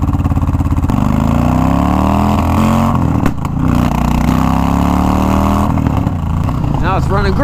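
Cheap $200 auction motorcycle with carburetor work done and missing exhaust, now running smoothly without spitting or sputtering, loud and close at a steady idle with slight revs, its engine rumble continuous throughout.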